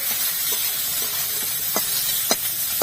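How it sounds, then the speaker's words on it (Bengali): Onions frying in oil with dried red chillies and whole garam masala, a steady close sizzle with a few sharp scraping clicks of stirring near the end. "লাল লাল করে একটু ভেজে নেব।"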